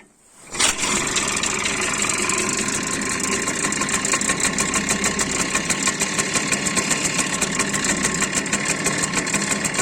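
Robi 55 moped engine running on 33:1 fuel mix at a steady idle after adjustment, close and loud, with a fast even putter and slight roughness, starting up abruptly then holding alone without throttle.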